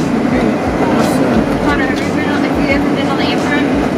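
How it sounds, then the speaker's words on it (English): A loud freight train rumbles past close by, a constant heavy roar with rattling and squealing wheels throughout. "Freight train."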